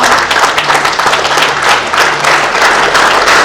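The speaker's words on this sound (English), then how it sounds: "please clap for him as they come" Loud, close, continuous clapping from an audience at an employee wellness talk as volunteers are introduced, a dense and steady burst of applause with a faint low hum beneath.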